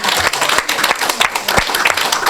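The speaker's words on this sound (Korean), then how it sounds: "믿는 사람 하나님께 박수를 영광" A congregation claps at a graduation worship service, loud dense applause from a crowd in a church hall, continuous with a few sharper hand claps standing out near the front.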